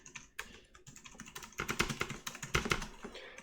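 Someone types on a computer keyboard, a close, rapid run of clacking keystrokes that grows busier and louder toward the end.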